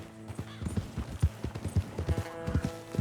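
Horses' hooves clip-clop steadily at close range in the Red Dead Redemption 2 video game, a brisk, uneven trotting rhythm of thuds filling the whole stretch.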